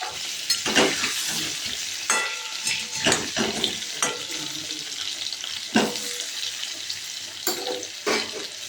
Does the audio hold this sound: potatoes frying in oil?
yes